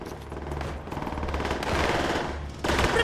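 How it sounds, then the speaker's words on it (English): Machine gun fire in Call of Duty: World at War, a sustained rattling burst over loud battle noise that keeps going for about three seconds and grows denser toward the end. "He's firing!"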